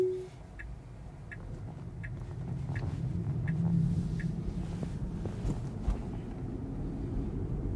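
A Tesla drives on FSD Beta 11.3.1, a steady low road rumble and buffeting wind noise building as it gets under way, with a few soft chimes early on.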